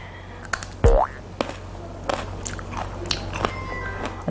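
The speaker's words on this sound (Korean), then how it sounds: "한번 씹어보세요. 조금 잘라서." Someone bites and chews a piece of dried fruit peel, firm outside and chewy inside, with a sharp bite followed by several soft, irregular crunching and squishing chews, close to the microphone with no talk.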